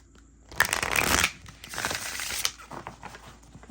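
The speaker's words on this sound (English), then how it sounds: "Okay, so let's see how these shuffle." Harmony Tarot cards being shuffled, a short burst of papery riffling and sliding card stock that rises, fades, then returns more softly near and alone.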